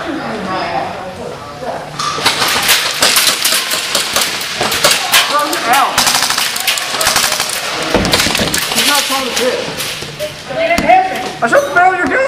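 Airsoft guns fire throughout an indoor close-quarters live-action game as a dense run of sharp snapping shots, some in quick strings. Loud players shout and talk over and between the shots.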